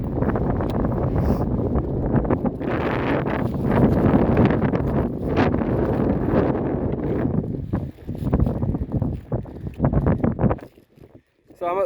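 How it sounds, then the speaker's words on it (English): Strong wind buffets a microphone at the top of Conic Hill above Loch Lomond on the West Highland Way, a loud continuous roaring rumble that dips briefly near the end, with no clear talk. "it's a little bit breezy."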